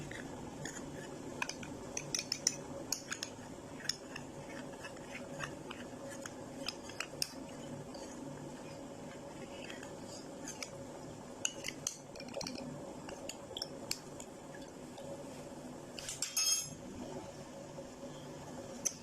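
A spoon clinks and scrapes in a small bowl, mixing two spoons of cornflour into two spoons of water while making tamarind chutney; faint, intermittent metallic taps over a quiet kitchen background.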